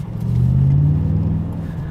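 A Mercedes-AMG GT 63 S E Performance engine switched into Sport Plus mode gives a brief low rising rev, a deep close rumble that swells and then settles into a steady idle.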